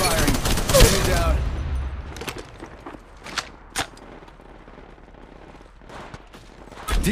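Gunfire in the mobile shooter Apex Legends: a loud, dense burst of rapid shots opens, followed by scattered single sharp reports, some nearer and some more distant, over low background game noise.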